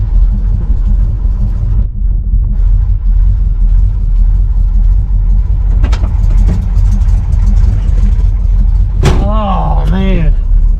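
A car limping along on a damaged tire, its engine rumbling steadily and loudly close by, with a few sharp knocks and a brief vocal sound near the end.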